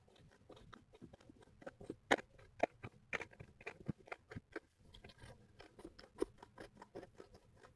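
Scissors snip paper along a circled outline for a homemade lamp craft, the close, crisp cuts coming in an uneven run of short bursts with brief pauses, no talking.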